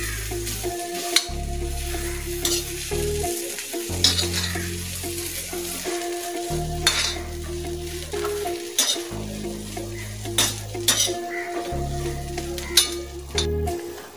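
Onion roasting in a pan for spicy Malvani chicken masala, a steady sizzle with repeated stirring scrapes and clinks against the pan, over a low hum that cuts out briefly several times.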